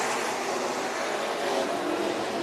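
Race cars roar together at Bakersfield Speedway as the green flag drops on a Friday night, a dense, steady wall of engine noise from a full field at speed, loud and unbroken with no talk.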